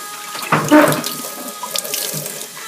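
A kitchen sink full of dishwater drains after the dishes are washed, with a close, steady gurgling rush of water and a few splashy bubbles and drips.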